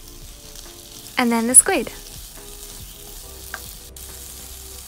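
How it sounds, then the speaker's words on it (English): Garlic, chili, onions and squid fry in olive oil in a fry pan, giving a steady, soft sizzle throughout, with a brief spoken phrase over it near the start. "get a fry pan, put some olive oil in it, add in the garlic and chili, and cook until it becomes fragrant"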